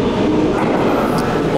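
A train rumbles steadily into Meitetsu Nagoya Station along a curved platform, a continuous low mechanical roar with faint rail noise throughout.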